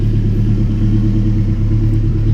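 A turbocharged RSX car roars along at high speed, its engine and road noise forming a loud, steady low rumble heard from inside.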